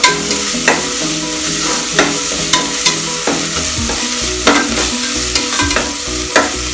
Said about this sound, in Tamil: பச்சை வாசனை போகிற வரைக்கும் நம்ம ஒரு 2 நிமிஷம் ஸ்டிர் பண்ணிக்கலாம்